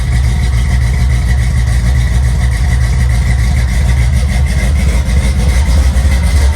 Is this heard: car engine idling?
yes